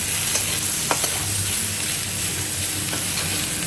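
Chicken frying in a little oil with chopped raw onions being stirred in, a steady close sizzle broken by a few scraping stirs of the spoon against the pan.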